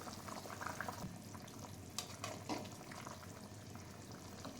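Water boils in a pot of banana-flower curry (mochar dalna), a faint, steady bubbling hiss with a few louder pops. No talk is heard.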